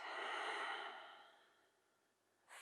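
A deep yoga exhale through the mouth, a long breathy sigh that starts strong and fades over about two seconds, close and without talk, followed by the start of another breath.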